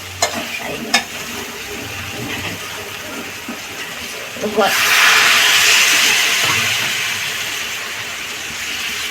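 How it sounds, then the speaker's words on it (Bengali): Bori lentil dumplings being stirred into spiced cauliflower curry in a pan: a few scraping stirs, then a loud sizzling hiss that swells and stays steady, close by, with no speech. "বড়িটা দিয়ে একটু নাড়বেন"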